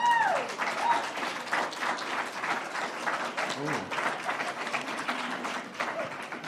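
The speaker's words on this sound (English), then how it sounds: "Let's give him a round of applause." A room of people applauds Education Secretary Patrick Tutwiler at a literacy announcement, steady many-handed clapping with scattered voices, moderately loud and even across the whole stretch.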